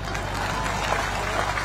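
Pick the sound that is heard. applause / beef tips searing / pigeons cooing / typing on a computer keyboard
applause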